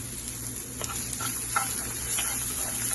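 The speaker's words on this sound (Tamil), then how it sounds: "இந்த வெங்காயம் வதங்கும் போதே உப்பு சேர்த்துக்கோங்க தேவையான அளவு." Onions sauté in a pan with salt for cabbage poriyal, giving a steady, soft sizzle with a few faint stirring scrapes throughout, close and without speech.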